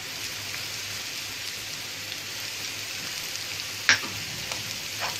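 Curry leaves hit a pan of frying onions, salt, chili and turmeric, giving a constant soft sizzle like light rain, with one sharp crackle and spatter partway through and a smaller pop near the end.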